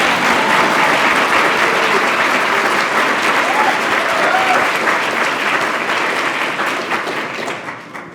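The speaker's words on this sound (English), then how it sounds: "You can clap for him." Audience applause from a seated crowd at a talk event, steady and full for several seconds before tapering off at the end, with no voices over it.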